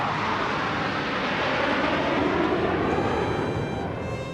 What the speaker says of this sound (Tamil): அதேபோன்று 6 ரஃபேல் போர் விமானங்களும் வானில் சாகசங்களை நிகழ்த்தி அசத்தின.